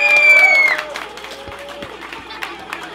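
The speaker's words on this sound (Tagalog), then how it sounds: "akin munang hinihingi ang malakas sa sigawan at palakpakan ng bahay gato" An audience at a rap battle at a Sausage Party event cheers and applauds, a loud burst of shouts and clapping up front that quickly fades to scattered claps and crowd murmur.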